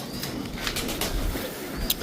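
Soft coos of Belgian racing pigeons murmur in a busy, noisy setting, with a brief rustle of wings near the end; no speech.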